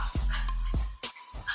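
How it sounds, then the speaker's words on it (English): A pet dog indoors barks and yips in a few quick, loud, close bursts with whimpering tones between them, heard without speech over it. "sorry, my dog's barking"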